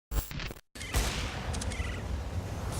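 Dual Beretta pistols firing in a Counter-Strike match at a DreamHack tournament, a sharp shot followed by a brief gap and then a dense, loud burst of gunfire that carries on to the end.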